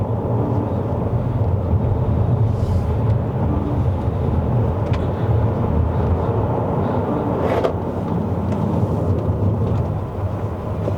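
A 2025 Leapmotor C10 on 20-inch Dunlop tyres accelerates hard uphill toward Genting, Malaysia, heard from inside the cabin. Continuous, steady roar of motor and road noise, loud throughout, with no voices.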